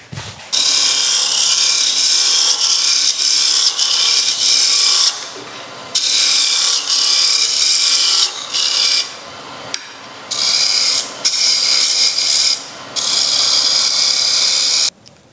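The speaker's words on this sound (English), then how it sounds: "So we need to reduce the diameter of the base and taper it towards the chuck" A wood lathe turns a cupcake box base as the tool cuts it down in diameter and tapers it toward the chuck. Loud, hissing scraping comes in several long bursts broken by short pauses.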